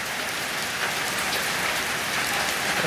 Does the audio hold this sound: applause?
no